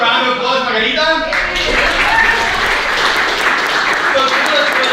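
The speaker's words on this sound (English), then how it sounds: "Everyone round of applause, Margarita." At a workshop, a burst of applause breaks out after a brief voice and carries on steadily, many hands clapping together at close range.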